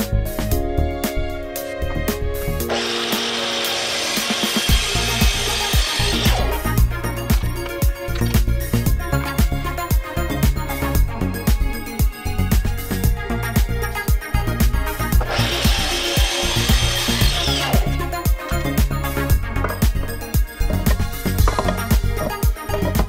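A power saw cuts an aluminium mounting plate in two long harsh bursts of high grinding noise, separated by quieter rubbing and handling sounds.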